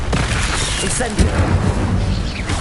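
A roaring fiery blast from the Incendio spell in Hogwarts Legacy, a loud rumbling whoosh that swells and holds, with a voice talking over it.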